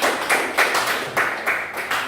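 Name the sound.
applause for a group of students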